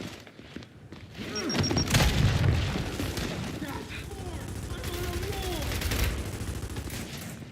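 Grenade blasts and rattling gunfire in the video game Gears 5, with deep booms and bursts of shots near and loud, mixed with shouted voices and whooshing effects.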